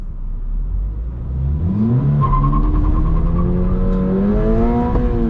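A 2022 Subaru BRZ with a six-speed manual launches from a standstill, its engine note rising steadily and loudly through the revs, heard close and continuous with no talk over it.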